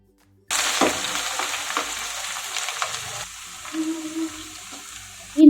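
Crushed whole garam masala and grated ginger frying in a tempering pan, a steady sizzle with intermittent stirring scrapes, close and alone, ending in a sharp clink.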